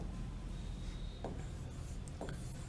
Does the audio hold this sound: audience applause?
no